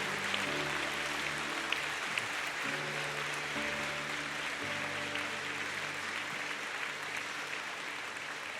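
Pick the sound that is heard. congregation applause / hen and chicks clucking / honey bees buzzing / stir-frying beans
congregation applause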